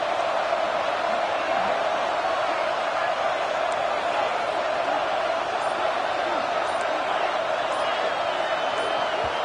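Steady roar of a college football stadium crowd for an ASU game, loud and continuous throughout with no break, the broad wash of noise rising during a fourth-down situation.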